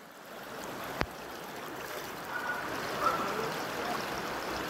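Floodwater after heavy rain rushing through city streets in Coremas, a steady broadband roar of flowing water close by, with one sharp knock near the start.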